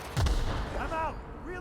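Gunfire in The Outer Worlds, a sci-fi shooter game: one heavy low boom at the start, then a tail of ringing synthetic tones and a short voiced call.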